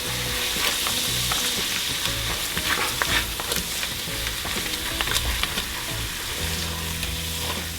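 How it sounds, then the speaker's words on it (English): White wine sizzles steadily in a hot pan over browned bits as it cooks down before clams go in, a continuous close frying hiss with occasional stirring clicks and scrapes and no talk. "we're gonna let this cook until most of the wine is evaporated"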